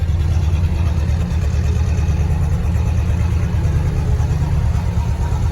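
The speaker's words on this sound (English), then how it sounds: "Actually sounds pretty good for a little aluminum V8." A cold 1963 Oldsmobile F85 Cutlass with a small aluminum V8 idles through a brand new exhaust fitted with a turbo muffler. It gives a steady, close, low rumble with a slight lope, and no voices are heard.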